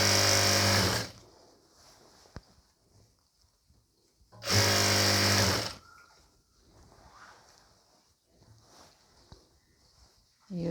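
A sewing machine stitching a three-piece nighty runs in two loud, short bursts of about a second each, separated by a quiet pause with faint handling noise.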